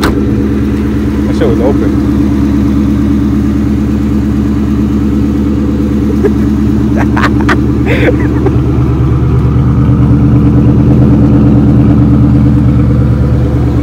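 A Ford Mustang engine runs close by, a steady low rumble that swells a little louder toward the end, with a few brief clicks and a short spoken remark over it.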